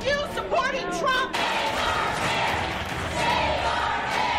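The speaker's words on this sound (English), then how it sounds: "Hundreds voiced frustration with boos and hisses." Large town hall crowd booing and hissing at a senator, a dense, loud, sustained wash of jeers and hiss, with a brief voice audible at the start before the crowd noise swells.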